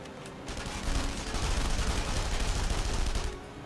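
Sustained automatic gunfire in the video game The Saboteur, a dense continuous burst of shots lasting a few seconds, fairly loud with no talk over it.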